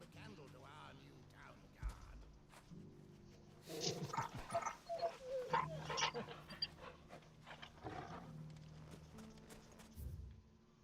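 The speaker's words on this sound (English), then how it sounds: "Pet the dog." A dog being petted in the video game Final Fantasy XVI gives panting and soft whimpering sounds over game ambience, with a voice heard at times.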